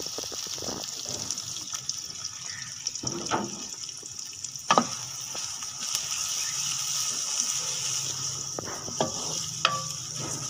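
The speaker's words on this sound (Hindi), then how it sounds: "अब घी में जो दूसरी प्याज हमने दिखाई थी वो डाल दें।" Onions sizzle and fry in hot ghee in a home kitchen, a steady hiss broken by occasional clinks and stirring knocks.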